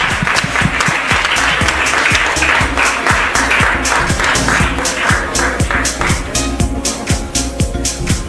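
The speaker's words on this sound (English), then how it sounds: "a huge round of applause for Mr. Kakao" Loud, sustained applause from a large audience at the News9 Global Summit 2025 in Germany, with dense, rapid clapping filling the whole stretch at an even level and no speech over it.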